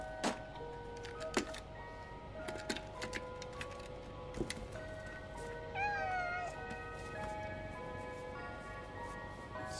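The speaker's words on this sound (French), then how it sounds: "le miaulement de faim" Hungry cat meowing in the video game Stray, a drawn-out, bending meow rising out of busy game ambience with clicks and tonal cues, moderately loud.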